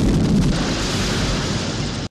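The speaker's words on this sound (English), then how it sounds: "There are a lot of good explosions in this movie." A big cinematic explosion from the James Bond film The Living Daylights, a loud, sustained blast with a roaring boom that fills the clip and cuts off abruptly.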